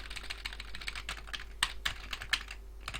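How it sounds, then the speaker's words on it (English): Keys on a computer keyboard are typed in short, irregular bursts, with a few sharper, louder strokes standing out from the close, fairly quiet clicking, and no talking. "Why can't I type?"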